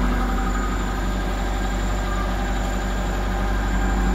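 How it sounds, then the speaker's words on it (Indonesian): A Kia Visto engine idling high because of a faulty idle speed control, giving a steady, loud, unbroken drone that holds level throughout, with no voices. "kita dengarkan bunyi mesinnya"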